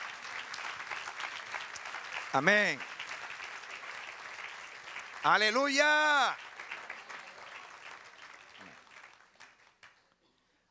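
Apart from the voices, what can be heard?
congregation applause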